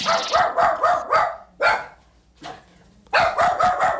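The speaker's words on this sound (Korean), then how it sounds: "그때 갑자기 가게 앞 사람들을 향해 짖기 시작하는 도담이" Dodam the dog barks at people in front of a hair salon, firing off a rapid burst of loud barks, then two separate barks after short pauses, then another quick run of barks, all close up.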